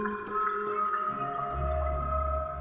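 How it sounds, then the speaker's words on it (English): The Dripping Caves texture patch from the Sabresphere synth gives sustained, layered tones with scattered watery drip plinks and a deep low swell rising toward the end, clear with no voices. "Dripping Caves."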